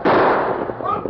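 A gunshot in a western drama, a single loud, close blast at the start that decays into a rough, echoing rumble.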